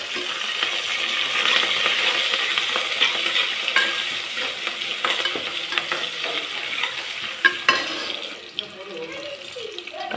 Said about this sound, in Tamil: நான் பெருஞ்சீரகம் தான் சோம்பு போட்டுக்கிறேன்.